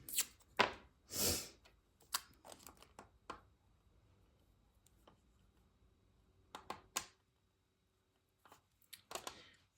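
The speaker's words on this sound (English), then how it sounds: "Get another piece of tape." A piece of tape is pulled off and handled at a craft table, making a few short, close tearing and crinkling bursts separated by quiet gaps.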